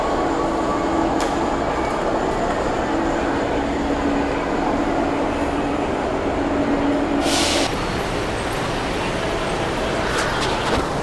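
A Manila MRT Line 3 metro train rumbles loudly and close by, with constant rolling noise, faint wheel squeal, and a short hiss burst partway through.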